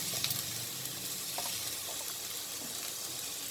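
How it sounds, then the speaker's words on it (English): Chopped onions fry in a hot pan, giving a steady, close sizzle with light crackles throughout and no voices. "Now we are going to add the chopped onions. And we'll fry them till it turns golden brown."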